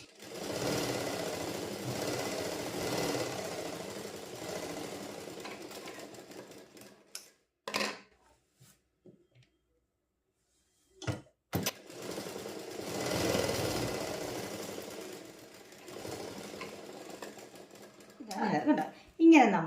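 A sewing machine stitches pant fabric for a slitted pencil or cigarette pant, running in two long steady bursts separated by a pause with brief handling knocks, close and fairly loud.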